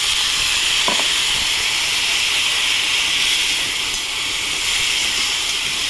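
A steady, loud hiss of water hitting a hot pan of chilli, turmeric, cumin and coriander, a continuous bubbling sizzle with no pauses throughout.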